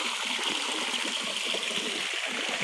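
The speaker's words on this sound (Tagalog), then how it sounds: "Limpyo kayo ang tubig kay flowing siya." Cold, clean spring water flows steadily into a natural swimming pool at a mountain eco farm, a constant close rushing and trickling sound with no voices.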